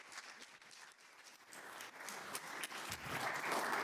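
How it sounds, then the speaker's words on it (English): Faint, distant applause from an audience, a steady patter of many hands that swells slightly louder toward the end. "Please give her a round of applause and welcome her to the stage"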